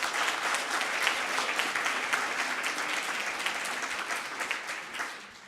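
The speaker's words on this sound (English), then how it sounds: "Let's give a round of applause for Mr." An audience at a racial equity event in Prince George's County, Maryland gives a round of applause for Mr. Bullock, a full, dense burst of clapping that holds steady for several seconds before tapering off.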